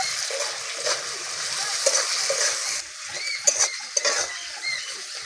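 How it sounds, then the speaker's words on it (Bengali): Ground turmeric and chili powder fry briefly in a pan for egg curry, a faint sizzle broken by stirring scrapes and light splattery clicks, with a few sharper knocks later. "গুঁড়ো মশলাটাকে একটু হালকা করে ভেজে নেব।"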